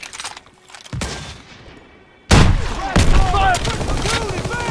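Gunfire in the World War II shooter game Call of Duty: WWII, a quiet stretch then loud bursts of rifle and machine-gun fire breaking out midway and continuing in dense volleys.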